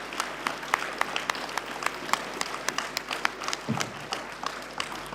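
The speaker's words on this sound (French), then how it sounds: "je pense qu'on peut commencer à les applaudir dès à présent" An audience at a lecture on a local First World War exhibition applauds, with distinct individual claps of moderate loudness ringing out in an uneven patter across the whole stretch.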